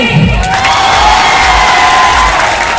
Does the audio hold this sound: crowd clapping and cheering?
yes